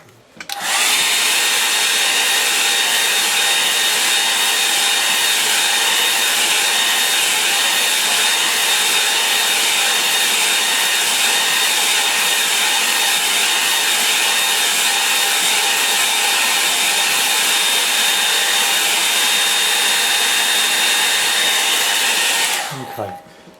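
A hair dryer blows steadily on a watercolour painting of a heath scene, a loud, continuous close-up whoosh with an unchanging whine that holds for over twenty seconds before cutting off.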